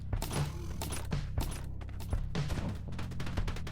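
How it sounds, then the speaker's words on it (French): Rapid gunfire from bullets shot in the pinball roguelite game Pinball Storm Lokanta, a dense, continuous burst of crackling shots and mechanical clatter filling the whole stretch at steady loudness, with no talking. "Ça tire des balles."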